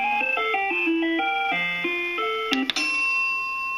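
The Breville Smart Scoop ice cream maker's third alert tune: a short, bright electronic chime melody of quick stepping notes, ending in a held tone after a small clack, close and clear with no voices.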